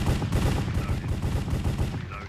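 Rapid AK rifle fire in a Minecraft cops-and-robbers game, a dense, continuous spray of close, heavy shots for about two seconds.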